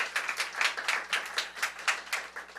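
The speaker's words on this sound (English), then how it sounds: "Please give them a round of applause." A small group claps at an outdoor government announcement about new child care spaces, a fairly faint, loose patter of individual claps with an uneven rhythm and no talking over it.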